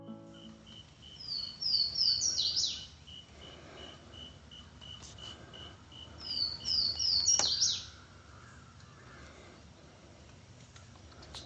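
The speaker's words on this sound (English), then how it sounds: "you can listen for the Swainson's warbler, and that's how we usually pick them out" Two bursts of high, rapid Swainson's warbler song, several seconds apart, stand out over a quiet, steady background hiss.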